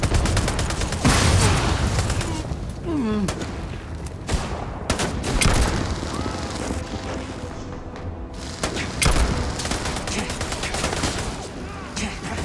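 Heavy combat gunfire in Starfield, sustained volleys of close shots mixed with booming impacts and thuds, dense and loud throughout, with scattered shouting voices in the fight.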